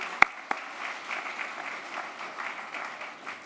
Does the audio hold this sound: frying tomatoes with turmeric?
no